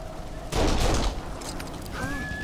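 Gunfire in the third-person shooter Kane & Lynch: Dead Men, a loud burst of shots followed by scattered quieter fire and in-game noise, with a brief faint voice over it.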